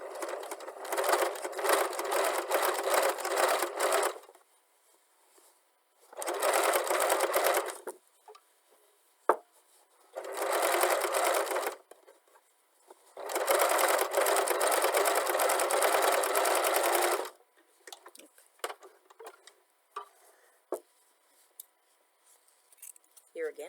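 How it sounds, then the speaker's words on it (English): A sewing machine stitches bulky denim patchwork strips for a pouch. It makes several long, loud runs of rapid stitching separated by quiet gaps with small handling clicks and brief speech. "if you have an industrial machine, it's even better, because then you're really working with some bulk here"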